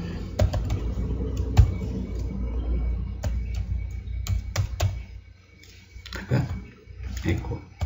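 Computer keyboard typing PHP code, a run of fairly close, irregular key clicks and taps with brief pauses, over a low room hum and faint background noise.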